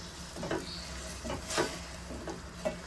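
Ridge gourd sabzi with spices and coriander is stirred in a pan, with soft, irregular scraping strokes over a faint steady sizzle.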